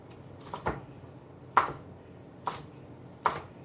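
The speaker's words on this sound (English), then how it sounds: "I'm going to just roughly cut 2 medium-sized carrots" Knife roughly chopping two medium carrots on a board beside a pot of butter, four sharp distinct chops spaced unevenly, close and clear over a quiet kitchen background.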